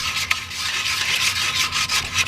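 A sanding stick is rubbed back and forth by hand along the edges of a motorcycle part during a Ninja restoration, giving a close, steady gritty rasp in quick repeated strokes with no talking.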